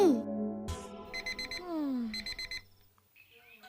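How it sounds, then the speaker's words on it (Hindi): An alarm clock rings in repeated short beeping bursts in a bedroom scene, its steady electronic pulses mixed over music and swooping tones, fading out near the end. "अलार्म बज रहा है"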